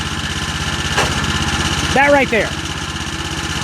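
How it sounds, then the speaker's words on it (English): A stump grinder engine running steadily with a repeating knock while its drive belt slips, a brief whining squeal rising and falling near the two-second mark; someone speaks briefly over the engine noise. "if you listen, you'll keep hearing this knock, and it's like the engine is spinning and it's slipping on the belt"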